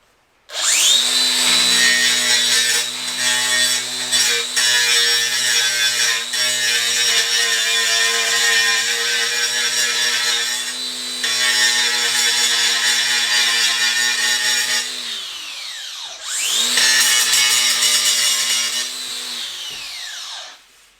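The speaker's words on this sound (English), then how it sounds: "We're going to test the grinder." A DeWalt 20V Power Detect XR grinder cutting, a loud steady high whine that runs continuously, drops briefly, then winds down and spins back up near the end, close with no talking.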